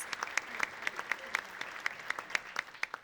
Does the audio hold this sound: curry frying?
no